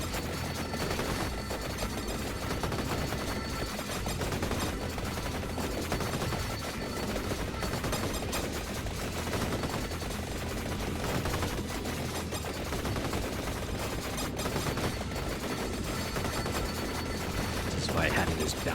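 Dense, continuous gunfire from the bouncy bullets weapon in Vampire Survivors: Operation Guns, a steady loud barrage of rapid shots blended with game effects and music, with no gaps throughout.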